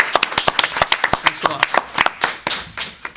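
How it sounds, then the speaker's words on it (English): A few people at a town board meeting clap in sharp, distinct, closely miked claps with uneven rhythm, loud and near, briefly joined by a voice speaking. "I think that's worth another round of applause"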